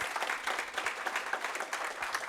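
Audience applause at an agriculture leadership program gathering, steady many-handed clapping at moderate level throughout, dense and continuous with no talk.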